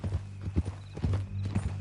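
Horse hooves clip-clop at a steady walking rhythm on a hard surface in Red Dead Redemption 2, close and continuous under low game ambience.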